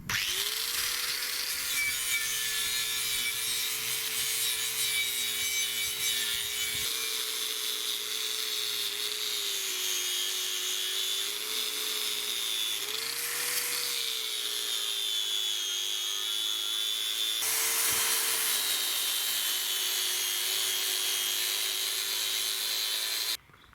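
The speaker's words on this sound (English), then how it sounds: "try and get as much of the rubbing done outside rather than in the shed because of the mess it makes" Steady abrasive rubbing on a pitted metal winch shaft, done outdoors, a continuous close scraping drone with a slowly wavering tone and brief breaks, with no talk.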